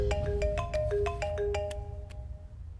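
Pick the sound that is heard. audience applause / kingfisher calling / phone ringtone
phone ringtone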